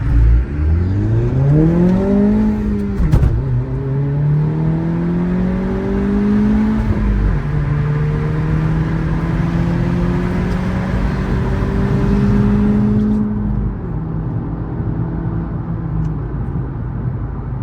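An Acura Integra A-spec with an MBRP exhaust pulls hard in first gear, its engine note rising loud and close, dipping briefly at the shift, then droning steadily upward again before easing off.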